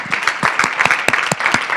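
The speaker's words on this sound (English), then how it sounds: "I think we should give a big round of applause for our speakers" Audience at a TEDx evening applauding the speakers, a short burst of moderately loud, uneven hand claps from a modest crowd.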